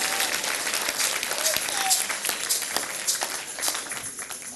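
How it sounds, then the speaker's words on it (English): A church congregation claps for Jesus at a service, steady dense applause filling the room with voices calling out over it. "So better clap for Jesus and we go."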